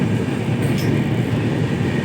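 The Puri–Sealdah Duronto Express runs at speed, heard from inside as a loud, steady low rumble of wheels and carriage with a brief high squeal or hiss partway through.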